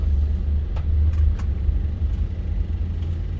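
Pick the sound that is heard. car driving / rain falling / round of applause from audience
car driving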